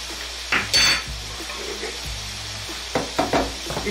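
Crushed red chili being stirred into keema frying in a pan, with a spoon scraping and clinking against the metal over a steady sizzle in short bursts.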